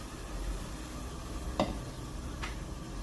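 Fatty pork head cheek renders in a pan before being made into sisig, giving a faint, steady sizzle broken by a couple of brief sharp crackles.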